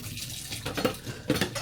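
Dishes being washed under a running cold tap, with water splashing and plates and cutlery clinking in a few short bursts.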